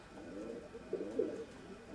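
A domestic pigeon coos softly close by, a couple of low rolling murmurs swelling near the middle of a quiet stretch with no talk.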